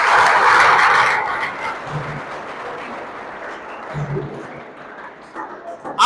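Applause bursts from a comedy show audience, loud at first and then tapering into a steady patter of clapping over roughly six seconds, with a few sharper claps near the end.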